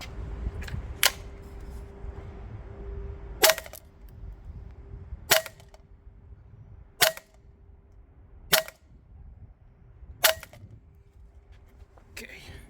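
Umarex Beretta PMX gas blowback airsoft submachine gun running green gas and 0.25 g BBs fires about six sharp, clanging single shots a second or so apart, loud against a steady low hum of background noise.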